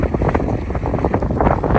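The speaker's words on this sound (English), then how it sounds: "It is extremely windy" Strong wind buffets the microphone by the ocean and dunes, a loud, rough, continuous roar with gusty fluctuations and no talk.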